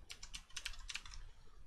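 Rapid keystrokes on a computer keyboard, a quick irregular run of close, crisp clicks and taps with no talking, used to type a search term into a game editor's asset list.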